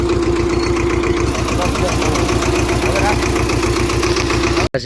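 A farm tractor engine chugs steadily up close, its even low knocking pulse continuous until a brief dropout at the very end. A voice speaks over it.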